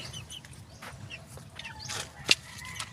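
Pet chickens cluck near and quietly in short irregular bursts, with one sharper, louder call partway through.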